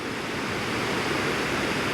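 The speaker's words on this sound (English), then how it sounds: "I'm just setting up a composition for the falls" Reekie Linn waterfall rushing, a dense, loud, unbroken roar of falling water heard close by, steady from start to finish, with no voices.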